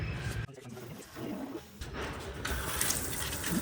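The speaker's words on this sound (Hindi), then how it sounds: "तो पहले हम इसमें वाटरिंग करते हैं" Water poured over an Adenium seed pot, mixed with a little fungicide for the first watering: a steady, moderately quiet splash and trickle running through the whole stretch, with no talking.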